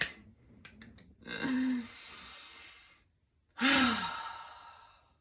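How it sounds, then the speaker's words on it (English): Two deep breaths, each a long breathy inhale and exhale, close and fairly loud, with a quiet pause between them and a few faint clicks at the start. "Breathing in and really letting it out."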